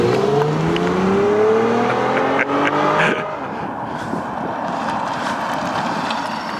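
A Mazda6 engine revs hard with traction control off in a failed attempt at a burnout, rising pitch climbing steadily for about three seconds before the revs drop back to a rough, noisy idle rumble, loud and close.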